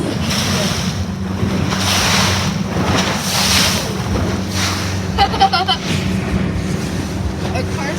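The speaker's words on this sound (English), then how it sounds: "Our car's getting a little car wash with those waves" Waves crash and splash against a car parked on the deck of a moving ferry, a steady rush of water and wind buffeting with a low engine drone beneath and a few sharper splashes near the end.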